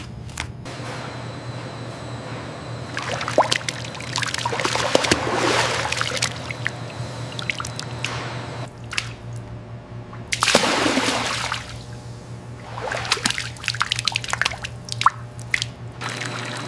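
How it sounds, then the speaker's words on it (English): Fat liquoring solution sprays onto crocodile leather in a factory, heard as bursts of wet hissing spray and dripping over a steady low machine hum, loud and close, with quieter gaps between passes. "In this section, fat liquoring solution sprayed on leather."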